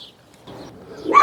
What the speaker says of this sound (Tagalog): natahol-tahol na rin yung mga papis